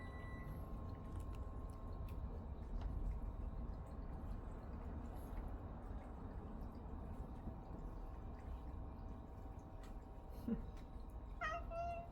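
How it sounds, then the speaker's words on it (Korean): A faint cat meow sounds once near the end over a steady low background hum, with occasional small clicks and drips. "봉돌아 고양이 구경해"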